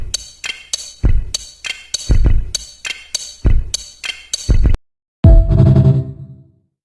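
Drum kit built from Lego bricks, heard as a groove of sharp clicky hits and clinks with compression and reverb tails, ending on a ringing final crash after a brief pause.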